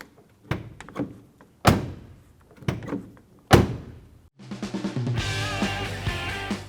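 The exterior door of a 2011–2018 Ram 1500 pickup truck is opened and shut repeatedly, four sharp nearby latch clunks and slams in an uneven rhythm, then a burst of layered music at the end.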